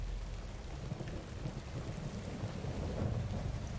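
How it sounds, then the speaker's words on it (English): Steady heavy rain with a low rumble of thunder in a Squid Game episode, a continuous dense wash of falling water at moderate volume with the deep rolling undertone swelling slightly near the end, with no voices. "It's raining."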